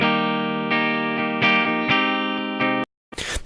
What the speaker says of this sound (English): The Planet Tones are kind of bright in a nice, cool way.